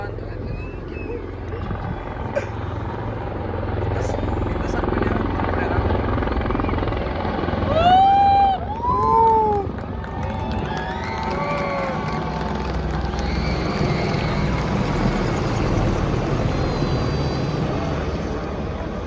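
Indian Air Force aircraft fly overhead in formation at a Republic Day parade, producing a loud sustained roar over crowd noise, with a commentator speaking over it throughout.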